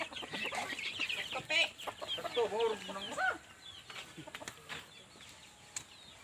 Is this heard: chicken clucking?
yes